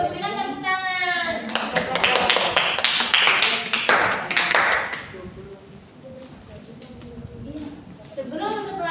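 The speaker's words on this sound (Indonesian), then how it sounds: "Berikan tepuk tangan." Students in an Indonesian-language classroom lesson clap together for a few seconds, sharp and fairly close, after which the teacher's voice and quieter room sounds follow.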